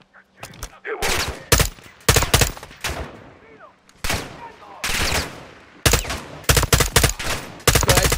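Rapid bursts of gunfire from Call of Duty: Modern Warfare II, sharp and loud, fired in quick repeated volleys with short gaps between them, and a voice talking briefly in between.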